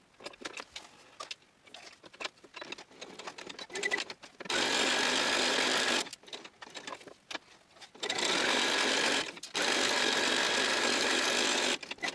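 A sewing machine stitches fabric in several bursts of steady, rapid stitching, separated by short pauses filled with quiet handling noises.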